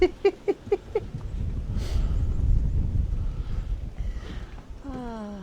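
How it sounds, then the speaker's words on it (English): Strong wind roars and buffets the microphone during blizzard-like winter weather at a greenhouse build, loud and continuous, with a few barks at the start and a brief higher whine near the end. "This wind's so crazy."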